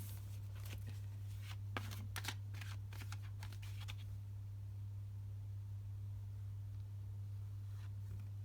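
Crisp bursts of tarot card shuffling in the first few seconds, a quick riffle pattern, then only a steady low hum remains.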